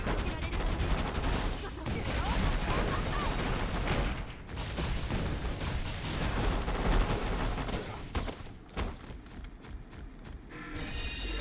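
Rapid bursts of gunfire from an armor-busting gun in the futuristic video game Taimanin, loud and dense for most of the stretch with mechanical clatter, easing toward the end.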